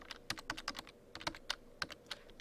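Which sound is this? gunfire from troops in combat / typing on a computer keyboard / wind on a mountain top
typing on a computer keyboard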